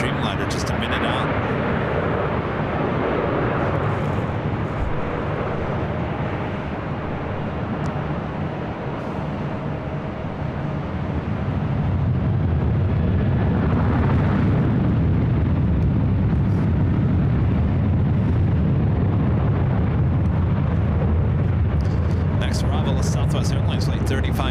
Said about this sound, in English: Qantas flight 9 to 5 coming from Melbourne, a 787-9 Dreamliner, just a minute out